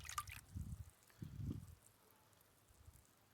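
Seedlings in a grow tray of grow mix are watered in, giving faint, soft liquid pours and drips in a few short low bursts against a quiet background.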